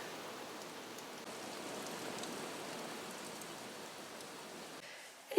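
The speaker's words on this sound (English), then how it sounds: "that rain's just really started to come down." Heavy rain pours down steadily outdoors in Wales, UK, as a dense continuous hiss of drops at even volume with no voices, ending in a brief sharp noise.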